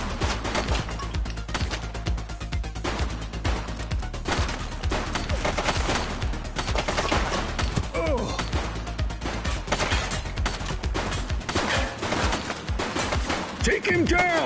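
Gunfire in the police video game The Precinct, a fusillade of repeated gunshots and bursts spread across the whole stretch, mixed with shouted voices and other game sounds.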